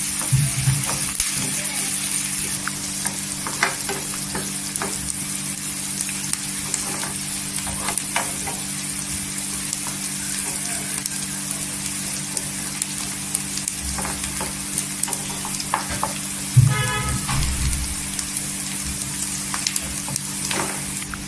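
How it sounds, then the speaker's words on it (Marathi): Onions frying in oil until golden for a Marathi dried shrimp curry, a continuous close sizzle with occasional stirring scrapes, with a brief clatter near the middle. "छान असं तेलावर कांदा गोल्डन कलरवर भाजून घ्यायचा"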